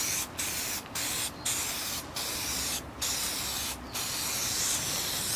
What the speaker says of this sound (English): So next I'm gonna hit it with a clear coat in order to protect the paint.